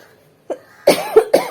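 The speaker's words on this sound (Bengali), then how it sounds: "কাশি হয়েছে নাকি তোর?" A person coughs at home, one soft short cough followed by a pause and then three loud close hacking coughs in quick succession, with no speech.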